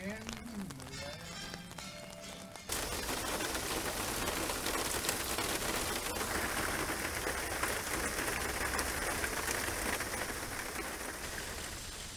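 Steady, dense rain patters and hisses across the whole clip, loud and close, with a quieter stretch of faint sounds at the very start before it swells in.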